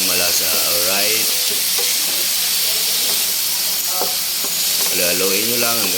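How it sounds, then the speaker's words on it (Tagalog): Bottle gourd sautéing in a hot pan gives a loud, continuous sizzle and hiss with occasional stirring, while someone talks over it. "ilagay na rin natin yung ating upo. Yan, igisa rin natin yan para malasang malasa"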